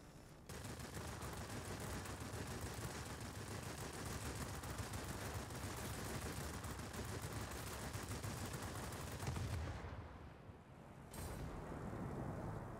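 Rapid, dense aircraft gunfire from a Wargaming combat game sounds in a loud, continuous stream, breaking off briefly near the end before resuming.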